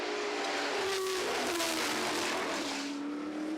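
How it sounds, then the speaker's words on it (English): A McRae GM1 Formula 5000 open-wheel race car with a V8 engine races on a circuit, its high engine note climbing and shifting as it passes at moderate distance, loud and continuous. "Another beautiful race car, the familiar McRae GM1."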